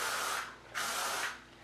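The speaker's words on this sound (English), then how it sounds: "I work the hairspray in through the curls that way" Hairspray misted through curled hair in two close, steady hissing bursts with a short pause between them, heard alone with nothing else around it.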